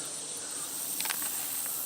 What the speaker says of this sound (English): There's some bees right there on these sunflowers.